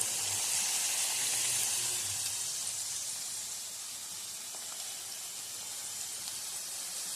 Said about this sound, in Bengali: একটুখানি ভেজে নিলাম